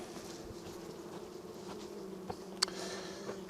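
Bees hum around an open beehive holding foundationless drawn comb, a faint, steady, close drone with a few soft clicks and taps mixed in.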